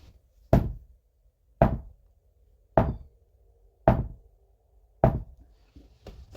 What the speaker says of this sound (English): The knocking suddenly returns, grabbing a hold of you and ripping you away from your state of contemplation.